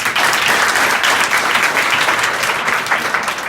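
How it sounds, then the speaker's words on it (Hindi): Loud, sustained applause from a college audience, many people clapping vigorously and evenly throughout, close and full with no pause. "मोनू यादव जी के लिए जोरदार ताली और बजाइए"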